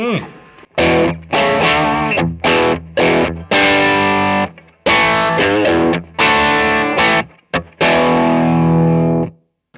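Driven, overdriven Telecaster chords through a Strymon Sunset pedal, played in choppy bursts with short gaps, loud and close, gritty and saturated with a steady sustain on each strum.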